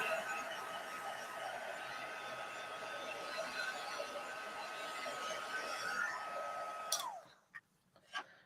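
A heat tool blows over cardstock with a steady whirring rush and a fixed high whine. It cuts off abruptly near the end and leaves a few faint knocks in the quiet.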